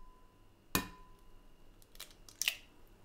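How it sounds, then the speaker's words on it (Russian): Children crack eggs into cookie dough while baking at home, making two sharp, quick shell cracks about two seconds apart against an otherwise quiet kitchen background. "Разбиваем 2 яйца."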